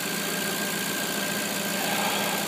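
Jaguar car engine, once thought to be shot with no compression, running at a steady idle with a constant close hum and vibration, no voices.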